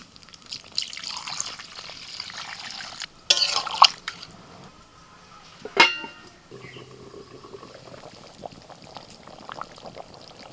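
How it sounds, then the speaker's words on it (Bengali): Water poured into a pan of fried spiced potatoes for Kashmiri dum aloo, with a few splashes and a brief louder gush partway through, then a quieter simmering hiss. "এবার জল দিয়ে দিচ্ছি।"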